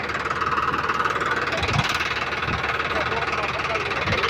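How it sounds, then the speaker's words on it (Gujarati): A rumbling tractor engine runs steadily throughout, with knocking, chugging low-end pulses, loud and close as it approaches, while voices are heard over it. "જોઈ શકો છો બીઓ ટ્રેક્ટર આવે છે અહીંયા"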